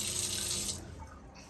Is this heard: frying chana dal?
no